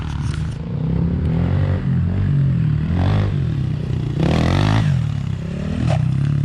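A pit bike engine drones and revs on a homemade backyard dirt track with jumps, a continuous nearby motor with surges in throttle and some scraping clatter, no talk.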